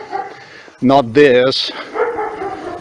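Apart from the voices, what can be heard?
big dog barking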